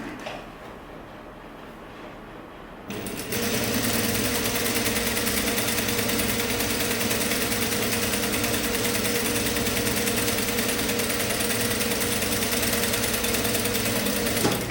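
A sewing machine stitches the side seam of a sleeveless top, starting after a few seconds of quiet and then running as a steady, continuous whir, close and loud to the end.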